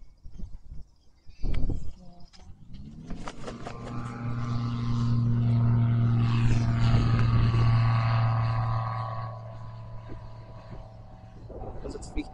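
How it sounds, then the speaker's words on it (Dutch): An airplane climbs overhead near heathland, its engine drone swelling from a few seconds in, holding loud and steady, then fading slowly; a brief thump comes early and voices talk faintly. "Vliegtuig dat weer helemaal omhoog gaat."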